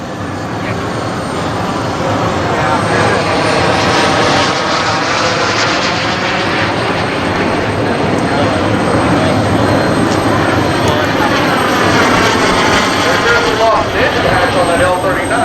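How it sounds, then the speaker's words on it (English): L-39 jet trainer on landing approach with gear and flaps down, a steady loud broadband engine roar holding throughout, with voices faintly mixed in. "On that L-39, he put the gear down, the flaps down, and he's making his approach now"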